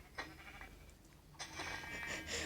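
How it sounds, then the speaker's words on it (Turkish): Several sheep bleat in quick succession in Minecraft, one faint call followed by louder overlapping bleats, set against a quiet low background hum. "Kaç tane koyun var lan burada?"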